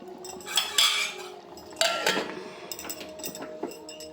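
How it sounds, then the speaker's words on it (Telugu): Metal clanks and clatters as a lid is set onto a pot, a few sharp clinks followed by lighter scraping and rattling, close and clear. "ఇప్పుడైతే స్టవ్ ఆఫ్ చేసుకొని మూత మూత పెట్టేసుకుందాము"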